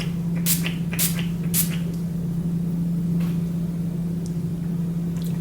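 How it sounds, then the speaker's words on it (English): Three quick spritzes of Maybelline Glass Spray misted onto a face, short close hissing bursts in the first two seconds over a steady low room hum, followed by quiet. "to spray my face, I actually just got the Maybelline Glass Spray"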